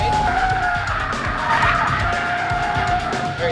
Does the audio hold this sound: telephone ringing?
no